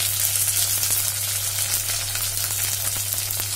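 Chopped tomato sizzling in a pan with onions fried until red, a steady crackling hiss with a low electrical hum underneath and faint stirring, no speech.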